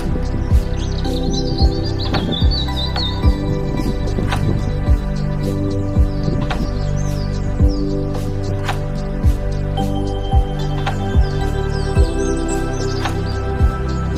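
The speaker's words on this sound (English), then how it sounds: "The song of this unobtrusive bird contains fluted whistles," Bird song of a bullfinch, mournful fluted whistles and chirps with clicking and dripping sounds, repeated phrases against a steady background hum.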